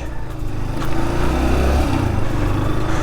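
A 1995 Yamaha SR 125 single-cylinder motorcycle being ridden, its engine drone steady and loud with a slight rise in pitch, mixed with wind rush, no voices.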